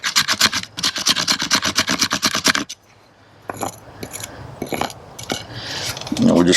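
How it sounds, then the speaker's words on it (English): A survival knife scrapes fatwood in quick, rhythmic rasping strokes, close and loud, then pauses before lighter, irregular scraping and shaving sounds resume. "I like scraping me some Fatwood."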